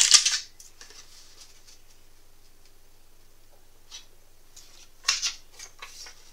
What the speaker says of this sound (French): Donc celui-là, je vais le couper en biais.